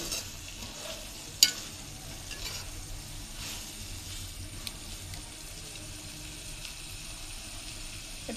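A jackfruit seed and onion stir-fry sizzles softly in a pan, a steady quiet frying hiss with occasional faint clicks and one sharp utensil tap.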